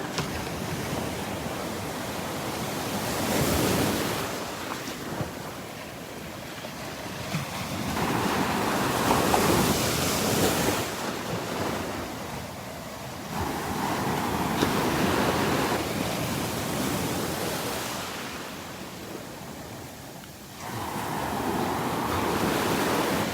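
Ocean surf rolls onto the beach at Delnor-Wiggins in steady repeating waves, each swell building to a broad wash and then receding, with wind rushing across the microphone throughout.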